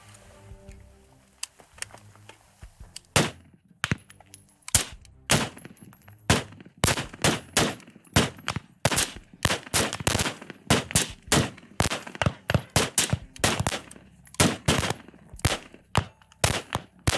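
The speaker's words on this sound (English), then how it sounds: "We then moved into live fire, and the first thing we did with live fire was check our offset on our optic." Rifles fire on a live-fire range as a ragged string of loud, sharp shots. They start sparse, then turn into rapid overlapping volleys from several shooters, with no talking.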